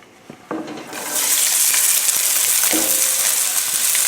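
Bean sprouts and mushrooms hit smoking-hot peanut oil with a sudden loud sizzle that swells into a steady, close, hissing roar, preceded by a few light clinks.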